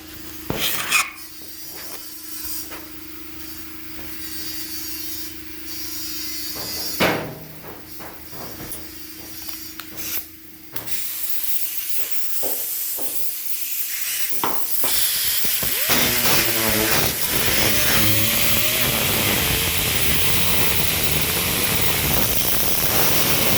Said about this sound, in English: y'all can watch me while I grind this quarter up out of here